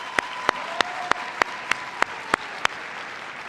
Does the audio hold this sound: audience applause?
yes